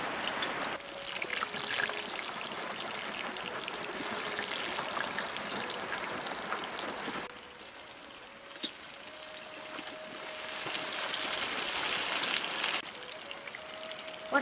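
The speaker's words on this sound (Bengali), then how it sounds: "ওই তেলে পটলগুলো ভেজে নেব।" Pointed gourd (potol) frying in hot oil for a potol chingri dish, a steady bright hiss and crackle that runs the whole time and grows a little louder toward the end.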